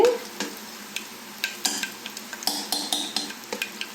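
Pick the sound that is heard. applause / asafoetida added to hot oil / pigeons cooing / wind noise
asafoetida added to hot oil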